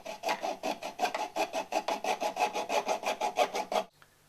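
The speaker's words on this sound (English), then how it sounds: "Just open up the outlets by sawing the ends off with a hacksaw." Rapid, even back-and-forth strokes of a hacksaw rasp through the plastic outlet ends of a vehicle heat exchanger, about five strokes per second, close and clear, then stop abruptly.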